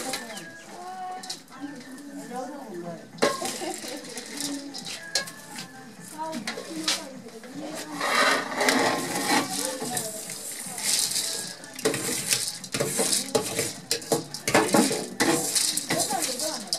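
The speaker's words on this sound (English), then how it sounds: "And put the rice into the boiling water." Rice goes into a pot of boiling water during outdoor cooking in The Gambia, with repeated clinks, scrapes and rattles of metal cookware and utensils close by, mixed with ambient background sounds and birds.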